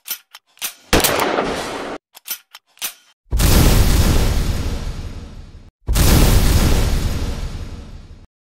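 Gunfire from a Laugo Arms Alien pistol on a shooting range: a few sharp single shots are followed by two long, loud, roaring bursts of sustained firing noise, close and dominant.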